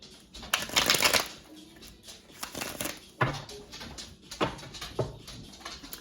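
Tarot cards shuffled by hand in a living room during a Libra reading: repeated riffling bursts and soft slaps, close and fairly loud, with brief pauses between shuffles.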